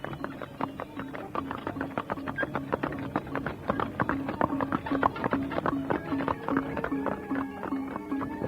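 Horses' hooves clip-clopping in a steady, busy rhythm as a royal party rides away from a palace, several animals close and loud throughout.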